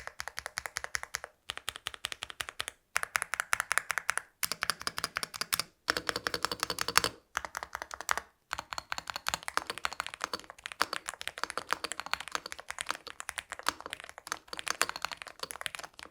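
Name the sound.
typing on a mechanical gaming keyboard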